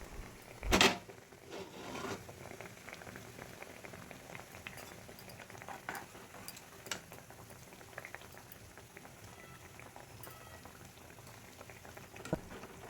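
A thin katla fish curry broth with thankuni leaves simmers in a wok, giving a quiet continuous bubbling with a sharp clank near the start and occasional small knocks.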